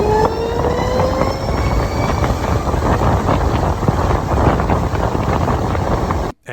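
An electric motorcycle accelerates with a rising whine over heavy wind rush, a steady, loud, close roar that cuts off abruptly at the end.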